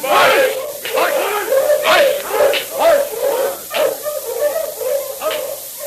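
A pack of sled dogs in a radio drama barks and yips repeatedly in a rhythmic series of loud, close calls, with voices mixed in.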